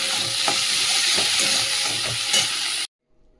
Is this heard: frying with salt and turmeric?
yes